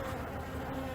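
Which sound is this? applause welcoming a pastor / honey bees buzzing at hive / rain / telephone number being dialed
honey bees buzzing at hive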